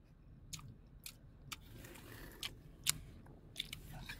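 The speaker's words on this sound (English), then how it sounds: "Did you hear the crispiness of the crust when I crunched it?" Crispy crust of a pizza from Bonaconi's in Youngstown is bitten and chewed, giving a series of sharp, dry crunches every half second or so. The crunches are close and quiet, with no talk.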